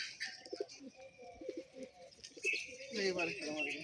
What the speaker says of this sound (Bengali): মিলন ভাই পায়রা খেলা দেখো